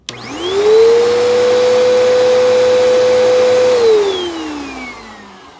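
A vacuum cleaner whirs up to a steady high whine, runs loud and close for a few seconds, then spins down as its pitch slides lower and fades.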